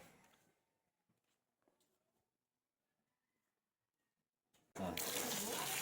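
Water gushes and splashes loudly from a tap for the final second, after long near-silence broken by a few faint knocks and a soft voice at the start.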